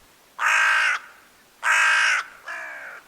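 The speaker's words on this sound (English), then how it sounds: "a murder of hooded crows made their presence felt" Hooded crows caw in a walled garden: three loud, harsh calls close by, the first two long and the last a little softer, with short quiet gaps between them.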